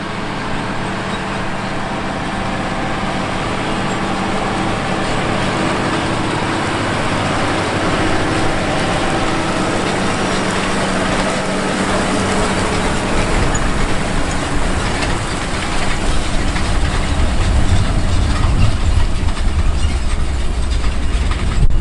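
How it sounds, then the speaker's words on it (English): A John Deere tractor pulls a 60 ft 2510H high-speed applicator that is putting out fertilizer across a field. It makes a steady, loud, broadband engine and machinery drone that swells slightly toward the end. "let's head out to the field so you can see and hear this big machinery at work."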